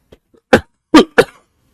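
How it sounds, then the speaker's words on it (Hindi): A teacher coughs three times in quick succession, loud and close, after a faint throat sound, with silence between the coughs. "मैं यहाँ पे अब खांस खांस के पढ़ा रहा हूं"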